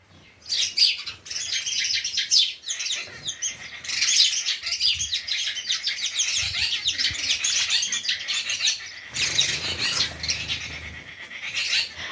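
A flock of house sparrows chirps busily and continuously nearby, overlapping calls with brief pauses and a few faint rustles.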